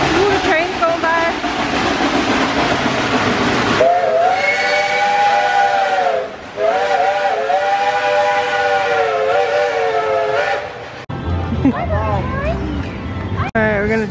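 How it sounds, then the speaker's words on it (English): A steam train at Dollywood theme park blows its whistle in long sustained blasts, loud and nearby, with a brief break midway and people talking in the background. "Ooh, the train's going by."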